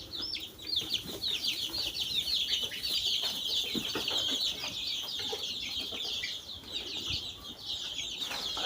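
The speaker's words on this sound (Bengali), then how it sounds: "নতুন বাচ্চা হয়েছে মুরগির" Newly hatched chicks peep continuously in a high, busy chorus close by, while a hen adds occasional low clucks and scratching sounds underneath.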